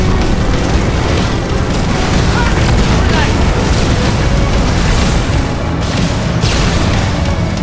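In Halo 2, heavy gunfire brings down a Banshee amid continuous loud booming battle noise and rumbling explosions, with no break in the din for the full stretch.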